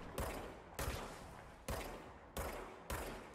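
Gunfire from shooting enemies in the video game Control, five loud, sharp bursts at roughly even intervals, each trailing off with a noisy decay and no voices.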